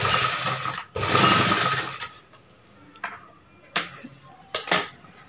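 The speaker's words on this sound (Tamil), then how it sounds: "திருப்பி அது மேல இன்னொரு தையல் போட்டுக்கலாம்" A sewing machine stitches the seam of a chudithar top in short whirring runs, the longest near the start, followed by brief sharp mechanical clicks, close up with no talking.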